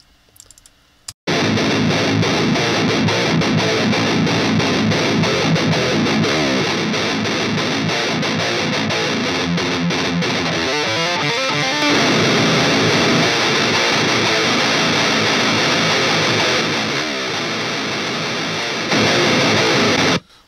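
A heavily distorted electric guitar through the STL Tonehub "Eddy 5153" high-gain amp preset plays loud, dense chords and riffs with a thick, saturated tone, cutting off briefly near the end.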